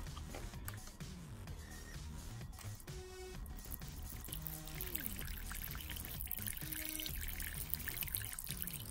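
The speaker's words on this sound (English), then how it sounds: "Just fill the water bowl up" Water is poured into a pet water bowl, with a faint, continuous trickle and splash of liquid filling it close by, no talk over it.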